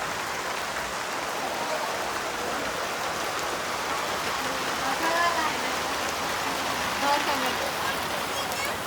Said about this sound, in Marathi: तर गाईज खूपच पाऊस पडत आहे आणि तो पण एप्रिल महिन्यात.